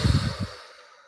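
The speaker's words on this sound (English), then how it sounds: "taking this next deep breath in through your nose" A deep breath drawn in through the nose during a calm meditation, a soft airy inhalation with a sigh-like quality lasting about half a second, close and alone, then fading into silence.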